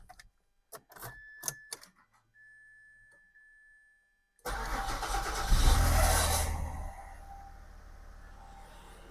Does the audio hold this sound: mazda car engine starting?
yes